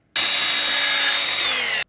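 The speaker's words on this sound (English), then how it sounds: "I'm going to go give this a cut on the miter saw" A miter saw slices through a board for a DIY camping griddle build, one steady loud whine of blade and cut lasting under two seconds with abrupt start and stop, no talking.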